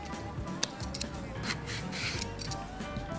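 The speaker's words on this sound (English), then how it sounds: "just peel as if you were peeling a potato. Nice, fine, even strokes." A vegetable peeler shaves ribbons off a zucchini in quick, even strokes, with soft scraping rasps repeating close by while a person talks over them.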